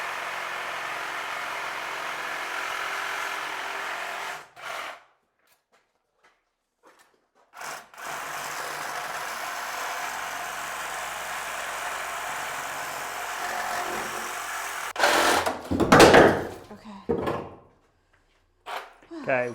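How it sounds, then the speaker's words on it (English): A carbide-tipped saw blade cuts through a cast iron bathroom fixture during demolition, a loud sustained grinding rasp in several long bursts separated by pauses, with people talking nearby. "the carbide tip cuts the cast iron like butter when it's sharp"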